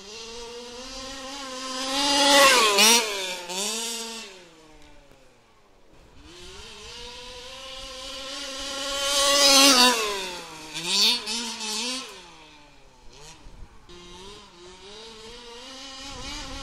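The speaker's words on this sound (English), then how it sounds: "Here comes a flyby." An HPI Baja 5B RC car screams past on a local RC track, its high engine whine rising and falling in two loud swooping flybys with quieter idling and revving between.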